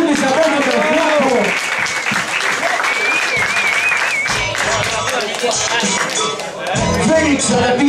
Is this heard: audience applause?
yes